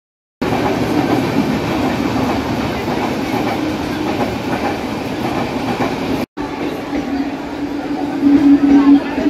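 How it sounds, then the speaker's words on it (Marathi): Crowded railway station platform during office-hour rush, with a steady loud rumble of a local train and clattering wheels, a brief dropout, and a busy crowd murmur with voices throughout. "स्टेशनवरती मात्र खूप सारी गर्दी आहे."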